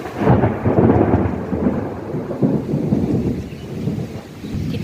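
Deep thunder rolls and rumbles through a monsoon thunderstorm as rain begins to fall, loud and sustained for several seconds with no voices.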